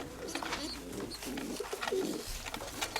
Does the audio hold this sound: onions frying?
no